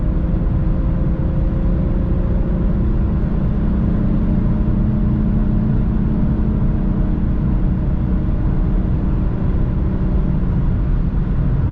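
A BMW M3 with a manual transmission cruises on the Autobahn, a loud, steady engine and road drone heard from inside the car, with no talk.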